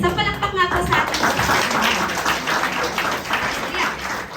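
Congregation applause during a Simbang Gabi evening Mass service in Imus, scattered clapping building after a voice at the start, then a steady, fairly loud patter of many hands.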